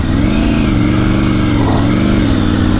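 A Triumph Tiger 900 Rally motorcycle engine revving loud and close while riding through desert sand, its throttle rising and dipping in a continuous throaty drone.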